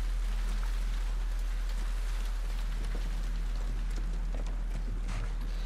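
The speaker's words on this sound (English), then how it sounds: "Rain." Steady, dense rain from The Last of Us fills the scene as a continuous wash of patter and drips, loud and unbroken, with no voices.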